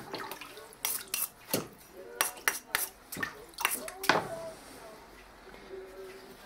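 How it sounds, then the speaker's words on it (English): Water splashes and drips as a kanna plane blade is rinsed and swished through a water bath during whetstone sharpening, with light clinks of metal against dishware and a soft voice underneath. "So let me rinse this off. I have a water bath here."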